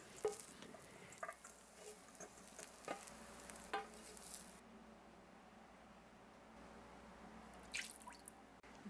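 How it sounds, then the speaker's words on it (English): Chicken stir-fries in a pan for a Brazilian coxinha filling, a quiet steady sizzle broken by soft scraping stirs and occasional drips, with no voices. "Now it's just a matter of stir-frying until the chicken is ready."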